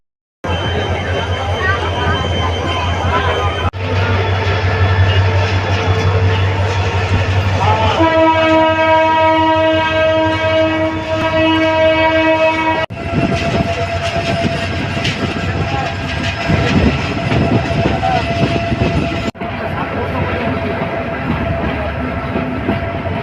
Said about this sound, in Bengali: লোকাল ট্রেনটি ধীরে ধীরে তার গতির রূপ পরিবর্তন করছে